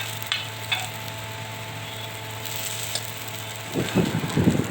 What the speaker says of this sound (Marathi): मग एका चमच्याने कटलेट्स थोडे दाबून घ्यायचे आणि उलटून घ्यायचे.